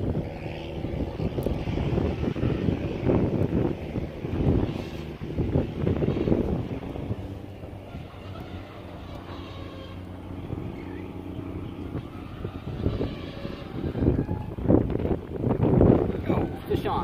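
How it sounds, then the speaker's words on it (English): Strong wind gusts across open water on a small fishing outing, buffeting the microphone with a steady low roar that swells and eases throughout. "Wind is really picking up now."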